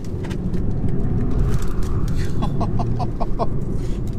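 A BMW 3 Series diesel on Pirelli P Zero tyres drives sideways in third gear, its steady engine drone and road roar continuous and close, with a short run of chirping tyre squeals near the end.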